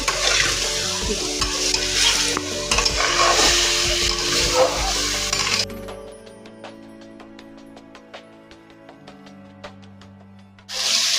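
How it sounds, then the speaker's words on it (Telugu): Marinated chicken is stirred in a pan until the water cooks off, giving a loud, busy scraping and sizzling for several seconds. It then drops to quieter clinks and a low hiss before a short loud burst at the end. "ఈ నీరంతా ఇంకిపోయే వరకు కలపాలండి"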